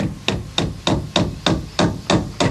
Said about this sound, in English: biff that nail in too